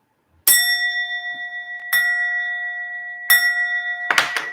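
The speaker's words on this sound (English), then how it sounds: "Let me ring this bell" A handbell is struck three times at slow, uneven intervals, each clear metallic ring sustaining and fading before the next, followed by a brief jangle at the end.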